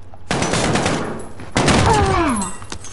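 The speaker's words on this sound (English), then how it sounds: "Oh, he's shooting at me." Loud gunfire in the video game Call of Duty Warzone comes as two rapid bursts of automatic shots, the second followed by a rising whine. A voice sounds faintly under the gunfire.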